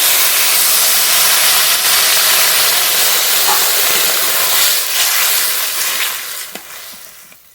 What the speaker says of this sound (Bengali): এবার জল দেবো জল